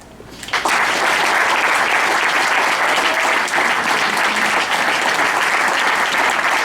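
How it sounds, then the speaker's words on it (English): Audience at a dining-in-the-dark event bursting into loud, sustained applause, many hands clapping densely and evenly after a quiet start, with no talking over it. "Give a round of applause for Ian Kloehn, everyone."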